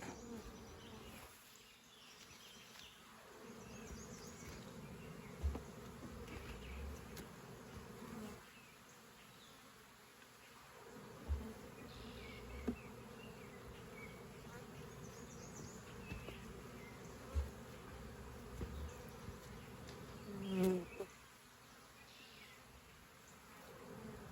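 A swarm of honeybees at a feral hive drones steadily and close, with a dense continuous buzz that swells slightly as individual bees pass near, and no talking.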